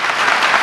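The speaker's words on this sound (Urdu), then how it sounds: "آپ نے تالیوں سے میری بات کا نہیں بلکہ خمار صاحب کا استقبال کیا" An audience at a mushaira applauds to welcome the poet Khumar Barabankvi, a loud, dense burst of clapping from a large crowd that sounds alone and steady.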